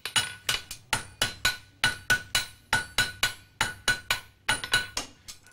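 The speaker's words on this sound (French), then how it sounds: "il y a 2 frappeurs avec des gros marteaux qui tapent dessus" Blacksmith strikers swing heavy hammers onto forged horseshoe iron in a farrier's forge, a fast, even run of loud, close, ringing metallic blows, roughly four each second, alone without voices.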